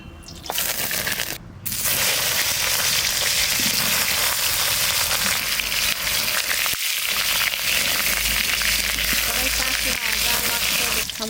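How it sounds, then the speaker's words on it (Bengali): Mustard oil heats in a wok before potatoes are fried in it. A continuous crackling sizzle fills the clip, with a few clinks of utensils and a brief break partway through. Soft voices can be heard now and then. "কটা ভেজে নেবার তেল দিচ্ছি কড়াইতে সর্ষের তেল"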